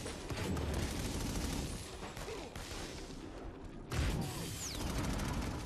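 Rapid turret gunfire in the video game Infamous Second Son rattles steadily and loudly through the whole stretch, with a short lull before a heavy burst resumes near the end.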